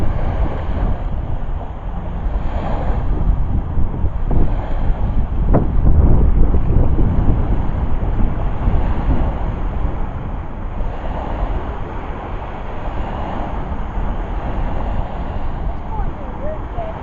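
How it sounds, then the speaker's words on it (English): Waves roll into the shore at Lake Tawakoni State Park, a steady low wash heavily buffeted by wind on the microphone, continuous throughout. "Love the sound of water, the waves coming into shore."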